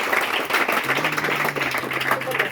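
A church congregation applauds during a prophetic worship service, with dense clapping throughout and a low steady tone droning beneath part of it.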